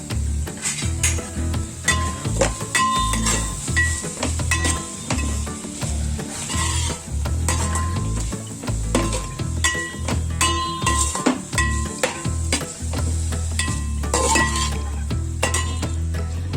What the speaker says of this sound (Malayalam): പാകത്തിന് ഉപ്പ്, കുരുമുളക് പൊടി 1 ടീസ്പൂൺ ഇട്ട് നന്നായിട്ട് ഇളക്കുക.